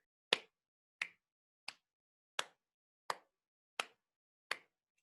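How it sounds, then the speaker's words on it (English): Seven sharp hand claps land at a steady, even pace, each one crisp and isolated with silence between. "Let's clap a steady beat together"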